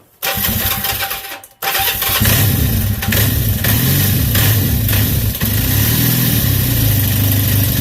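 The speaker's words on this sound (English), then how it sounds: "And let's see if it fires up here. It runs on both cylinders." A 1976 Kawasaki KZ400 motorcycle engine cranks and fires up, then settles into a steady, loud idle on both cylinders, heard close with no talking.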